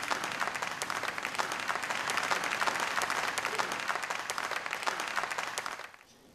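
An audience at a stage event breaks into sustained, dense applause, many hands clapping steadily and loudly before it cuts off abruptly near the end.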